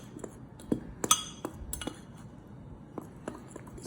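A spoon stirs chocolate mug cake batter inside a mug, scraping the sides and bottom. Sharp clinks and taps of the spoon against the ceramic are irregular and close by, with softer scraping between them.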